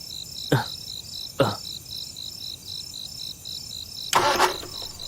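A car engine cranks but fails to start, giving three short separate bursts of churning over a constant pulsing chorus of crickets at night.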